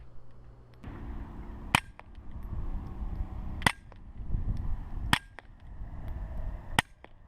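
Four evenly spaced suppressed gunshots fired through a SilencerCo Osprey Micro suppressor, each a sharp, close crack with a short tail, over a low rumble of outdoor background.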